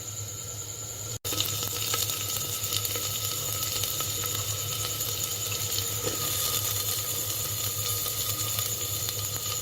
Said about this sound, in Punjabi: ਭੁੰਨ ਲਵਾਂਗੇ ਤੇਲ ਦੇ ਵਿੱਚ ਜਿਵੇਂ ਭੁੰਨਿਆ ਜਾਵੇ ਤਦ ਅਸੀਂ ਵਿੱਚ ਪਾਵਾਂਗੇ ਪਿਆਜ਼